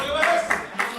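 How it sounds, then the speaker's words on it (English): A wrestler claps his feet together mid-move in the ring, three quick sharp smacks about a quarter second apart over a murmuring arena background. "oh, feet clapping"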